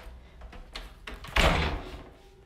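An apartment closet door is handled nearby: a few soft clicks and rattles lead into a loud thud and rush as it swings and bumps shut, fading into quiet room tone.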